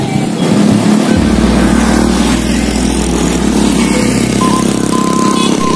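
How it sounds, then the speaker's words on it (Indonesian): A loud engine drones and strains continuously, rising in pitch early on, as vehicles rev hard up a steep incline on a rural village road. "dari bawah itu harus ngegas dulu ya sahabat, biar kendaraannya pada naik"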